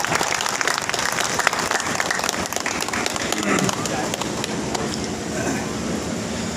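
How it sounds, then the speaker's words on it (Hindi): A seated audience rises for a standing ovation in honour of a university vice-chancellor at an inauguration event, with dense, sustained applause. A voice speaks over the clapping as it gradually softens. "कुलपति महोदय के सम्मान में खड़े होकर ताली बजाइए"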